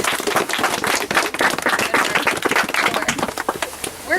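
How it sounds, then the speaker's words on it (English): A group gathered for an Earth Day frog walk claps together in a dense, sustained round of applause outdoors, close and lively for several seconds. "you deserve a round of applause."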